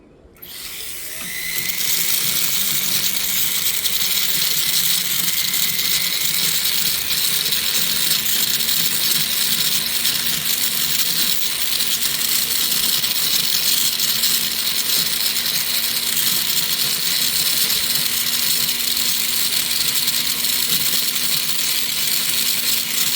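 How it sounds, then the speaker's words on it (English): A metal ring is ground by a power tool, giving a loud, steady high-pitched whine with a constant droning hum that starts abruptly and runs unbroken throughout, with no talking. "I guess we're gonna grind it and see."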